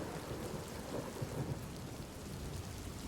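A steady thunderstorm with heavy rain roars as a dense, continuous wash of rainfall, with deep rumbles of thunder running low underneath and no voices.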